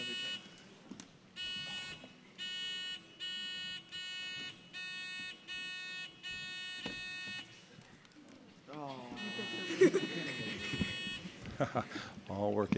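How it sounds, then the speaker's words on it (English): Electronic quiz buzzers at an academic tournament championship match sound in a run of repeated steady tones, one after another, before people begin talking. "Let's start with the buzzer check."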